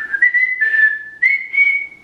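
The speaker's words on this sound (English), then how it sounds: "Your girl can whistle." A person whistles a clear, loud tune in a few sustained, gliding notes with short breaks between them, alone without talking.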